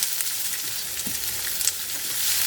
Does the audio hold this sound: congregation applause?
no